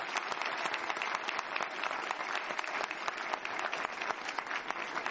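Audience at a youth conference applauds steadily, a dense and even clatter of many hands clapping from start to finish, with no voices above it.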